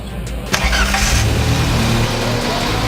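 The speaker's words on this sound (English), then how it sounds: "I say start it, put it in gear. Starting." A race car engine cranks and catches after a short pause, then settles into a loud, steady idle with low rumbling, close by and with no talking over it.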